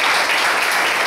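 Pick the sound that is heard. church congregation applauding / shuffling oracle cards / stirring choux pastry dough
church congregation applauding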